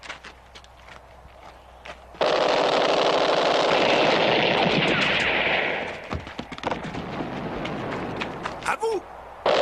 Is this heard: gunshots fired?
yes